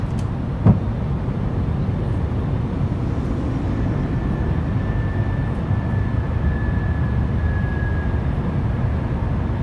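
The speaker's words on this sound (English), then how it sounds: "Rotate. Positive climb, gears coming up." Inside an A320neo airliner climbing after takeoff in MSFS 2020, a steady low engine rumble fills the cabin, a brief thump comes early on, and a faint tone rises and holds midway.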